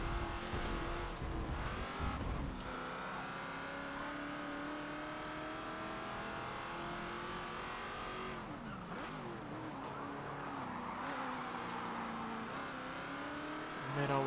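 Open-wheel race car engine in the video game Forza Motorsport 7, a sustained high revving drone with gear shifts and rising pitch sweeps, moderately loud throughout.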